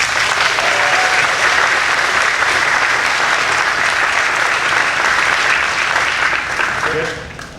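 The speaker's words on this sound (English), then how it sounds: "So give her a round of applause." Sustained audience applause at a circus show fills the space, loud and steady for most of the stretch before tapering near the end, with some crowd voices mixed in.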